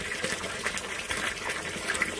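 Rainwater gushing and rushing through a French drain system during a Michigan storm, a continuous full turbulent flow with steady splashing, close and unbroken, no talking.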